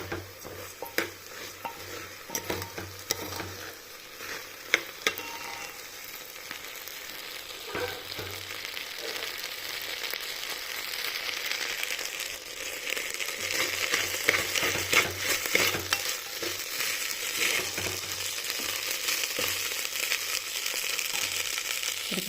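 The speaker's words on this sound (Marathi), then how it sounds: "1 ते 2 सेकंदासाठी परतून घेऊ आपण." Rice with peas and mint sautéed in a pressure cooker: a continuous moderate sizzle with repeated scraping stir strokes and occasional clinks of a spoon against the metal pot, growing busier toward the end, no speech.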